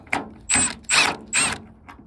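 A ratcheting screwdriver or driver backs screws out of a rain gutter downpipe in winter, making three or four loud, close ratcheting bursts about half a second apart, heard alone.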